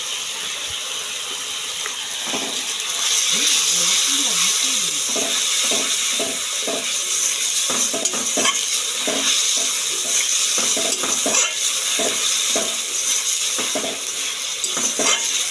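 Fish sautés in a pan with salt and turmeric, a steady sizzle broken by repeated scraping and clinking of a utensil stirring against the pan, close and moderately loud.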